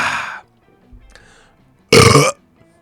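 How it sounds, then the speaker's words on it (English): A loud, short burp after a brief slurp, one sharp belch standing out from quiet gaps, with a voice briefly heard before it. "Here comes a slurp and a burp for you"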